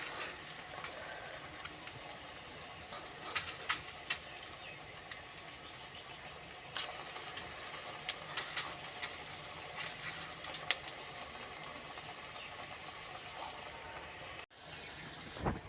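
Maggi pakoras frying in hot oil over medium heat, a faint steady sizzling hiss with scattered crackles and pops throughout, quiet and close.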